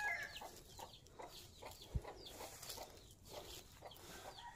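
Chicken clucking on a rural Filipino farm plot among jackfruit trees, a few short soft clucks scattered over steady outdoor ambience, fairly faint and distant with no talk.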